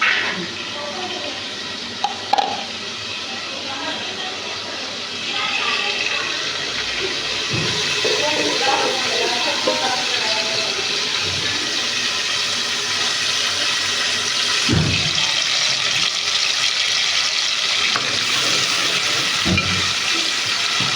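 Mustard greens saag tempering with garlic, ginger, cumin and coriander paste, a steady broadband sizzle and hiss running throughout, loud and close, with a few brief clinks and no speech.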